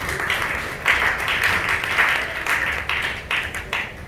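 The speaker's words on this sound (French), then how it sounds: "Acclamons très fort l'Éternel." A church congregation claps loudly and continuously, filling the room with a dense, steady wash of applause.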